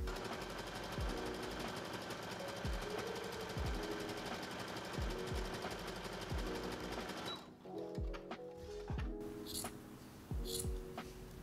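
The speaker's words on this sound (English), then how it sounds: "we're going to sew the straps next, the exact same way that we sewed all of those ties" A sewing machine stitches swimsuit straps in a quiet, fast, steady chatter of needle strokes, pausing briefly partway through before starting again in shorter bursts.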